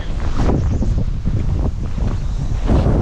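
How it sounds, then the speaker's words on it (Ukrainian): Strong wind gusts buffet the microphone outdoors on a winter zander fishing trip, a low rumbling, uneven roar that rises and falls with each gust, with no voices. "О, вітерець який роздувся"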